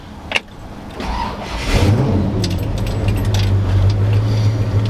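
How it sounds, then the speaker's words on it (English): Power windows on a 1965 Ford Thunderbird with a big-block engine run after a sharp click, their electric motor whirring as a steady hum that holds to the end, close and loud inside the car. "Power windows work nice."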